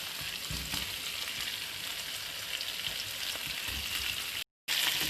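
Tomatoes frying in a pan for chicken karahi give a soft, continuous sizzle with faint scraping stirs, briefly cutting out near the end before resuming.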